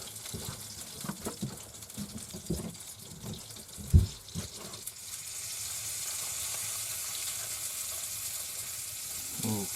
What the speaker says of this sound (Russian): заливаем кипятком и готово будет через 5 минут